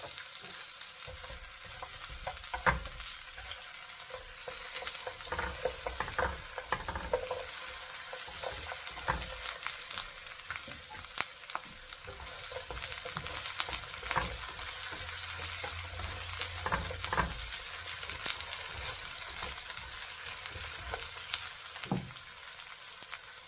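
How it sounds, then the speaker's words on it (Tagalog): Onion sautés in a pan, sizzling steadily with frequent stirring scrapes and clinks. The frying stays continuous and moderately loud for the whole stretch, with no talk over it. "Ilalagay na natin yung onion. igisa na natin."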